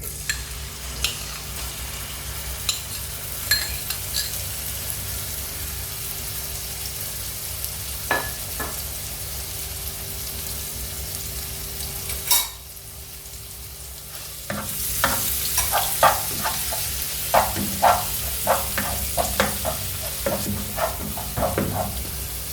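Ground spice paste sautéing in coconut oil for a homemade beef pickle, a steady crackling sizzle with intermittent stirring scrapes that grows louder and busier partway through.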